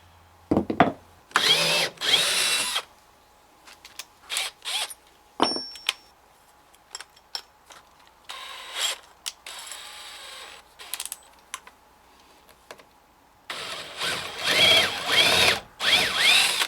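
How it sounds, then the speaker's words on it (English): A power drill bores holes into door frame cladding boards in short bursts of high whirring, separated by pauses with small clicks and handling noises, close and loud. "Don't really want to drill out too much."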